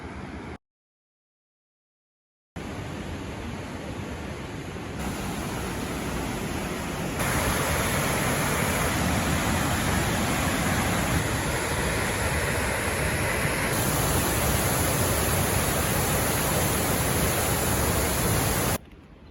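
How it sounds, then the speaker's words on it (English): Roaring waterfall at the Lower Falls of the Genesee River in Letchworth State Park's gorge, a steady broadband rush close by that grows louder partway through and holds without voices after a brief silent gap. "I think we're going to get up closer to the waterfall though."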